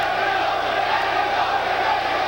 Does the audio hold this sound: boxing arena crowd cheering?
yes